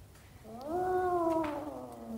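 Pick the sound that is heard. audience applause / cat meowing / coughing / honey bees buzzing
cat meowing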